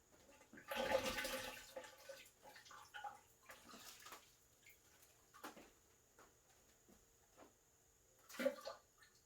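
Water from an aquarium hose draining into a sump during a water change, with a gushing burst near the start, then softer trickles and gurgles and another short surge near the end, heard up close without speech.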